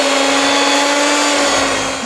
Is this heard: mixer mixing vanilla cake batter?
yes